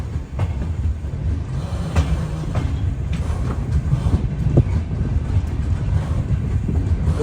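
The Uttar Sampark Kranti Express pulls out of Kathua railway station, its steady low rumble broken by rhythmic wheel clicks that keep going throughout, with no voices.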